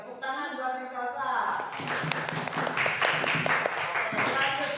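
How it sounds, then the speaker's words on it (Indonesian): Classmates clap for a student in a school classroom, a burst of scattered hand claps starting after a short stretch of speech and continuing steadily, loud and close, with voices mixed in. "tepuk tangan buat Neng Salsa"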